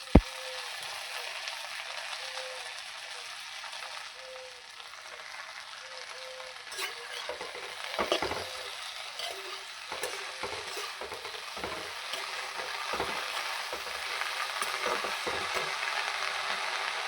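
Pumpkin greens fry in a pan with onions, giving a soft, steady sizzle, while a spoon stirs them in scattered scraping taps and shuffles that grow busier toward the end.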